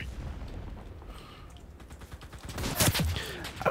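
Gunfire from the World War II shooter Enlisted crackles in quick irregular bursts against a busy battlefield background, growing louder and denser toward the end.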